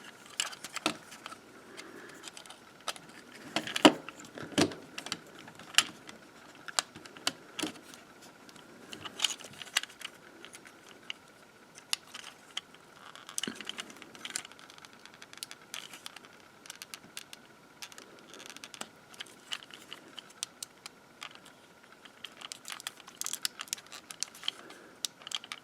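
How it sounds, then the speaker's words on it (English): Plastic panels on a Warbotron Turbo Ejector transforming toy are worked open, a string of close, quiet clicks, snaps and small rattles scattered unevenly across the stretch. "Open these panels up here."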